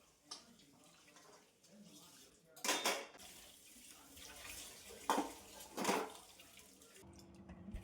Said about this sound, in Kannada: ಇವಾಗ ಪಾತ್ರೆ ವಾಶ್ ಮಾಡ್ಕೊತಾ ಇದ್ದೀನಿ